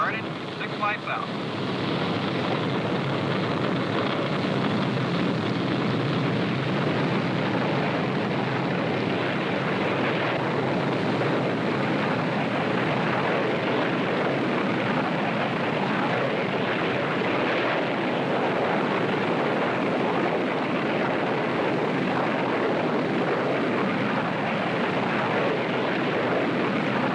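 Boeing B-47 jet engines stabilized at 80% throttle, a loud continuous broadband roar that holds steady throughout with no breaks.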